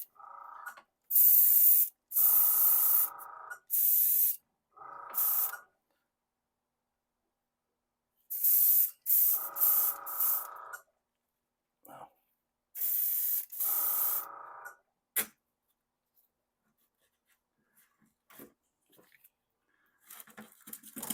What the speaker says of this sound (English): the Gaahleri Airbrush, it's super simple to spray with these